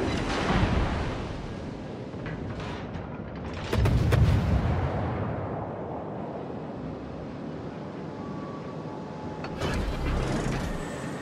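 Heavy naval gunfire in World of Warships, with booming salvos around four and ten seconds over a continuous rumbling battle din and wind-like roar.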